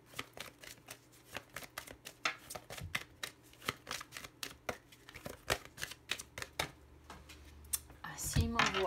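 Tarot cards being shuffled produce a quick run of crisp flicking riffles in an uneven rhythm, close and moderately loud, ending with a louder rustle; a voice talks alongside.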